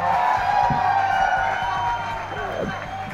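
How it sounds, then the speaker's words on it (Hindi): Crowd noise at a movie music launch event, a loud continuous din of cheering and whooping with a steady wash of sound, fading slightly toward the end. "तो आप जोरदार तालियों से स्वागत कीजिए"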